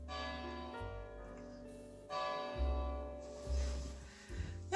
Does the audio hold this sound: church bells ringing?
yes